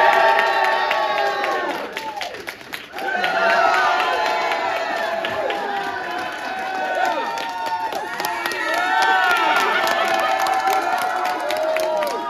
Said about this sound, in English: Applause for Yasuhisa Furuhara.